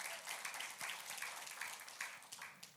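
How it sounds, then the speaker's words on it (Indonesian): Church congregation clapping for God during a sermon, a moderate, fairly distant patter of many hands with a few sharper individual claps standing out, rising and falling slightly over the short stretch. "berikan tepuk tangan bagi Tuhan."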